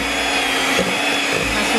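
An electric mixer beats nastar pastry dough made with Royal Palmia margarine, giving a steady, close, loud motor whir that continues without a break.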